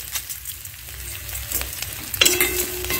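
Turmeric, chilli powder and sugar being stirred in hot oil in a frying pan for Bengali niramish aloo dum, with a loud, close sizzle, scraping strokes of a spatula and a sharper hiss toward the end.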